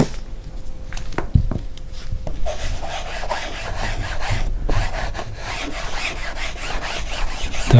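A sponge rubbing emulsion primer onto canvas makes a steady, close scraping and rasping that runs the whole time, with a few sharp knocks near the start and no voices.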